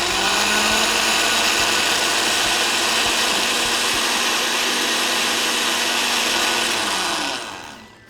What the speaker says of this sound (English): Make sure you close the blender